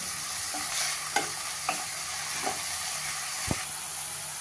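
Garlicky fenugreek greens sauté in an open, uncovered pan, giving a soft steady sizzle and hiss with a few faint scrapes and clinks of a spatula stirring, quiet and close.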